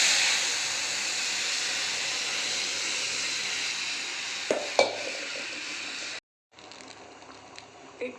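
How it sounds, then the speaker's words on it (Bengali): Dal poured into a hot pan for sour dal hisses in a steady loud sizzle while being stirred, with a few sharp clinks of utensil on the pan before a brief silence and a softer sizzle returning. "ডালটা ঢেলে দেবো।"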